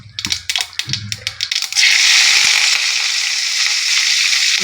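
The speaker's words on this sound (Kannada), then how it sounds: "ಈರುಳ್ಳಿ ಕರಿಬೇವು ಹಾಕ್ತಾ ಇದ್ದೀನಿ" Chopped onion and curry leaves drop into hot oil in a pan for mutton sambar, opening with a few clattering knocks before a loud, steady hiss of frying takes over and holds.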